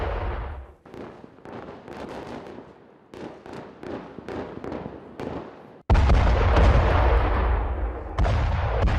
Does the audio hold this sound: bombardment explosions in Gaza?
yes